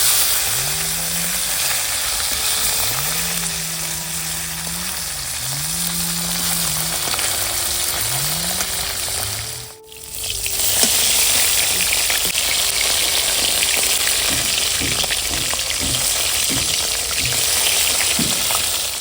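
Fish frying in a pan gives a loud, continuous sizzle throughout, with a brief dip midway and light scraping, stirring clicks in the second half; no one speaks.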